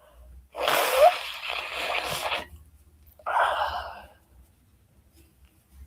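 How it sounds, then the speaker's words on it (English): A person forcefully blows their nose in two bursts, a long wet honk followed by a shorter one, close to the mic. "let me try to blow my nose a little bit"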